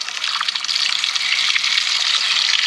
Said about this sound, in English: I was running water on the outside because he's seen water.